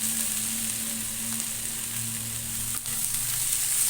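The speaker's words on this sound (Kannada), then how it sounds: "ಇವಾಗ ನಾನು ಟೊಮೊಟೊ ಹಣ್ಣು ಸೇರಿಸ್ಕೊತೀನಿ" Tomatoes frying in a pan with onion for a spicy tomato-onion chutney give a steady, close sizzle with a soft low hum beneath, continuous throughout with no talking.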